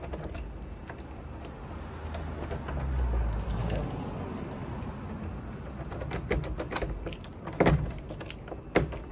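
A bunch of keys jangles and clicks in small bursts during a plumbing call-out in a switch room, with sharper metallic rattles near the end over a steady low background hum.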